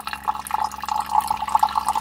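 Water from a reverse osmosis filter trickling and dripping as a container fills, a close, busy patter of small splashes with a faint low hum underneath.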